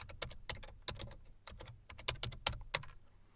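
Quick bursts of keystrokes clatter on a computer keyboard, close and crisp, with brief pauses between runs and no voices.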